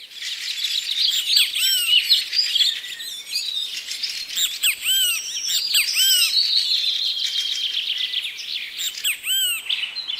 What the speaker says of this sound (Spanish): El canto de los pájaros puede ser muy relajante